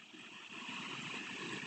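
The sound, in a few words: waterfall in a forest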